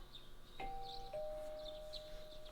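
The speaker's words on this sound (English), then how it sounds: "You hear the doorbell ringing." A chiming doorbell rings twice, a clear two-tone ding-dong over faint game background ambience in Persona 4 Golden, quiet and without speech.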